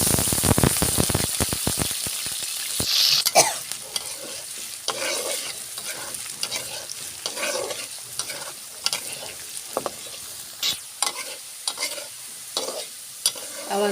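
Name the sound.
potatoes frying in hot oil in a pan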